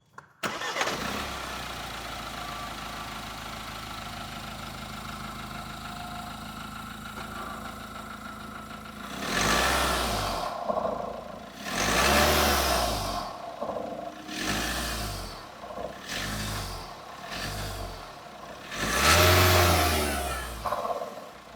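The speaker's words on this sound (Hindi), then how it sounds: "आपको पहले इसका इंजन साउंड सुनाते हैं" A Mahindra Scorpio N Z6 with a four-cylinder diesel engine starts and idles steadily, then gives a series of loud, close revs rising and falling in bursts.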